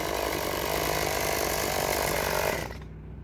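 A chainsaw-like power tool roars steadily while cutting through buckthorn outdoors, loud and close, then cuts off abruptly near the end, leaving a faint low hum.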